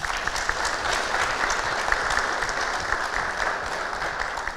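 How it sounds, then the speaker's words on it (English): Steady applause from a meeting audience in a room, many hands clapping at an even, continuous level without speech. "So please give them a huge round of applause"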